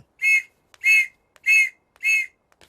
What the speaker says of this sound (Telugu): నీకు ఆ విజిల్ ఎవడిచ్చాడు రా?